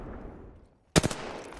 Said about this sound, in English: I shouldn't have shot.